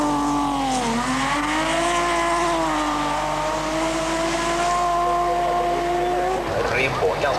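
A BMW rally car at the 1985 Masterrally is driven hard on loose gravel roads, its engine droning loud and close with pitch swooping up and down as it revs, then breaking off near the end.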